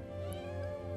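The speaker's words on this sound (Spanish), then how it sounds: "mira, es un gatito" A kitten meows in a video game, a single sustained, high-pitched cry standing out over a steady music bed with no talking.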